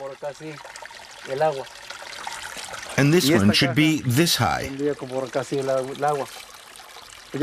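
Spring water trickles steadily into a stone basin in a drying village setting, a soft continuous splash running beneath someone speaking close by throughout.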